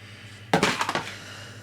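A spatula knocks and scrapes inside a jar of thick homemade creme fraiche, a brief close cluster of clattering taps lasting about half a second in an otherwise quiet room.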